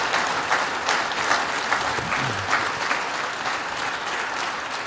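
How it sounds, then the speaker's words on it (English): An audience applauds panel speakers at the close of an Arthur W. Page Society session. The clapping is steady and sustained, a dense even patter throughout. "How about a round of applause for these guys?"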